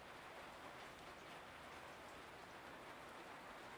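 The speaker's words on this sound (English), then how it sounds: "we're real happy to have the rain, that's for sure" Steady rain falls outside, making a soft, even hiss with no gaps and no voices, faint and continuous throughout.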